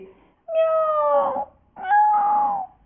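A frightened cat gives two drawn-out, wailing yowls, close and loud, separated by a brief pause.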